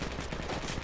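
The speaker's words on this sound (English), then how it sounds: "So we got AR firing from the mosque from northeast of squad lead position" An assault rifle fires a rapid, muffled burst of shots in the military shooter game Project Reality, sounding distant and low amid dense background noise.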